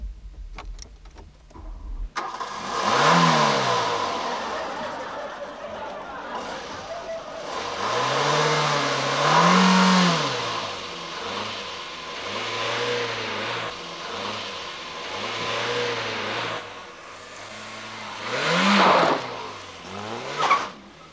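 A brand-new car's engine revs up and down repeatedly while driving, pitch rising and falling with gear changes, loud and close, with some tire noise and occasional voices talking over it.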